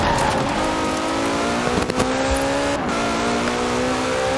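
Ferrari 575M Maranello engine in Forza Horizon 4, a loud, close, steady drone whose pitch climbs through the gears with brief shift dips, alone without talk.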